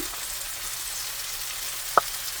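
Chopped kimchi with its juice frying in a pan gives a steady, close sizzle and hiss, broken near the end by one brief clink.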